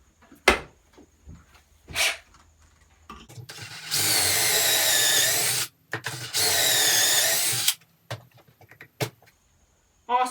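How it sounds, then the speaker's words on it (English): A power drill whines in two sustained bursts drilling pocket holes in walnut, separated by a short pause, with scattered clicks and knocks of handling wood before and after. "So now I'll just drill the pocket holes in these pieces for the other leg."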